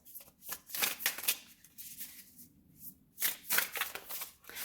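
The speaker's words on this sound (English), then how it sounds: "Hold on, let me keep pulling cards." Tarot cards are shuffled and pulled by hand in quick, close riffling bursts with short pauses between them, soft and crisp against a quiet room.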